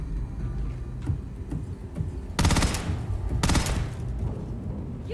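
Gunfire in the sci-fi game Starfield plays under a steady low rumble of background noise, with scattered faint shots and then two sharp, bright bursts of rapid fire about a second apart.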